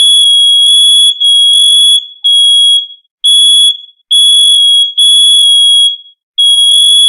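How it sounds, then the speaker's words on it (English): A smoke detector alarm shrieks in loud, piercing bursts of high electronic tone, repeating in a steady on-off pattern, with a low warbling tone sometimes sounding underneath. "There's the damn detector going off."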